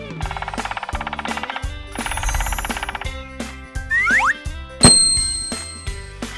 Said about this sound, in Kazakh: тоқылдақ